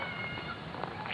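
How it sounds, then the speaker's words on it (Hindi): A cat meows briefly in a noisy, muffled recording, the short cry buried in a dense, hissy background with no speech. "बिल्ली"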